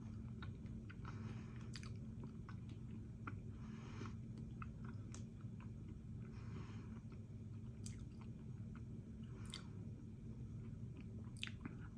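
Chewing on a chewy, gritty lemon keto snack bar, with steady close-up mouth sounds and soft bites over a constant low hum, no talking.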